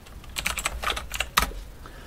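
Quick, irregular keystrokes on a computer keyboard while filling in a web form, a burst of about a dozen close, crisp clicks with one sharper final tap, no talking.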